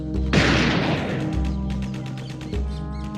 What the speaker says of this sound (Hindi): यहाँ गोलियां चल रही हैं